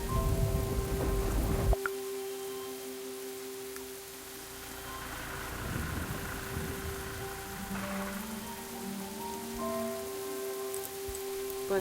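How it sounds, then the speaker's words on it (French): Rain falls in the Star Stable Online video game, a steady soft patter on surfaces with a low tonal game hum under it, continuous and moderately loud, with no one speaking. "il y a de la pluie, ça c'est clair."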